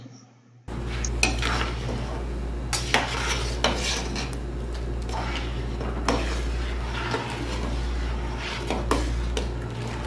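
Ginataan bilo-bilo being stirred in a pot, with a utensil scraping and clinking against the metal sides in a steady, close rhythm over a constant low simmering hum.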